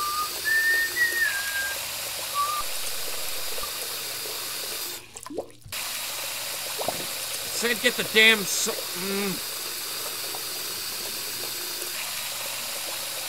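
Tap water runs in a steady hiss from a video game quarantine simulator as soap is rinsed off, a continuous stream with short gaps, while a voice talks over it.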